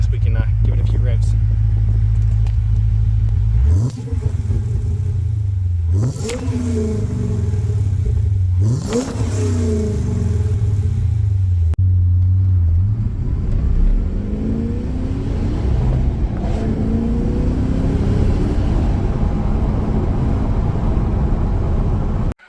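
A Holden Monaro CV8 with an LS1 V8 and six-speed manual idles loudly, then is blipped through several sharp revs that rise and fall before it settles into a rumbling, lumpy idle.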